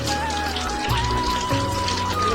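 Rain falling outdoors on a wet day: a dense, steady patter of drops on surfaces with a faint, thin tonal whine running through it.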